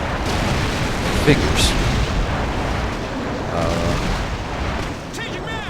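Airstrike explosions in Call of Duty 4, heavy booms and blasts rolling over continuous game noise, with a brief pop and one short spoken word near the start.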